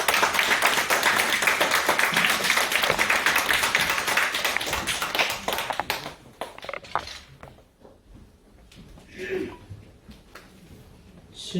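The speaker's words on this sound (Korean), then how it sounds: "좀 건강을 위해서도 박수를 한번 크게 치십시다." A church congregation claps loudly together during a Sunday service, giving about six seconds of dense, rapid, rhythmic applause that stops abruptly. Scattered claps, quiet room sounds and low voices follow.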